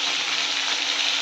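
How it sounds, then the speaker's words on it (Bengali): Pieces of meat sizzle steadily in a hot pan as they fry, a dense close crackling hiss with no talking. "এরপর লাল লাল লাল করে মাংসটা ভেজে নিচ্ছি।"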